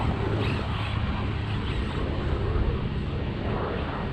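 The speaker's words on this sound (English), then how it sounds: "That's why that plane's so low." Steady, fairly loud engine roar of a low-flying airplane passing near an airport, heard outdoors without speech.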